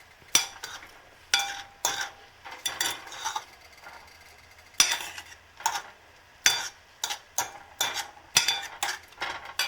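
Shrimp stirred in hot oil in a pan, with a steady series of sharp metallic clinks and scrapes from a utensil against the pan and a faint sizzle underneath.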